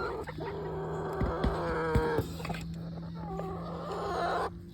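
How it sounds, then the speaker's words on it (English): Backyard hens cluck in a steady run of short, close calls over a low background hum, with a brief voice or bark-like burst in the middle. "Y'all are some local chickens this morning."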